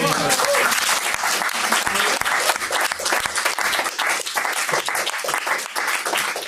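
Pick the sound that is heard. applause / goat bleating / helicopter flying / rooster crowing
applause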